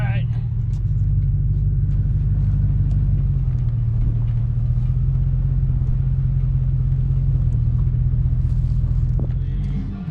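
An IMCA stock car's engine rumbles steadily and loudly as it drives away from a race car trailer, a continuous deep drone that shifts slightly in pitch, with a voice talking over it.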